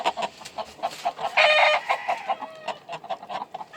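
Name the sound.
brassy back chicken clucking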